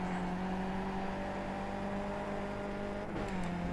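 A Skip Barber race car in iRacing at Okayama drones at a steady high-revving pitch, with a brief dip near the end as the engine note shifts. The sound is continuous and fairly quiet, with no talking.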